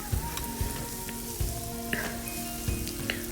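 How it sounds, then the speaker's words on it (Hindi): Chopped onion sautés in two tablespoons of oil in a pan with a bright, steady sizzle, broken by rhythmic stirring scrapes about every half second, close and without speech. "2 टेबल स्पून ऑयल लेकर उसमें जो है 1 प्याज चॉप करके डालेंगे और फिर उसको अच्छी तरह सॉटे करेंगे।"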